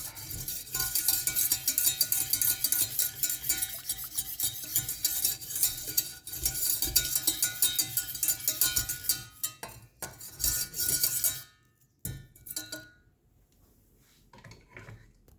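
Ceremonial cacao being whisked in a pot, a fast, continuous scraping and rattling of the whisk that runs for about eleven seconds, then stops and gives way to a few quieter clinks.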